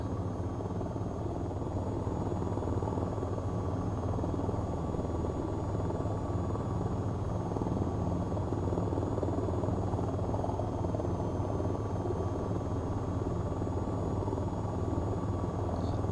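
A helicopter landing on a helipad gives a continuous loud rotor and turbine drone, steady and close throughout with no talk.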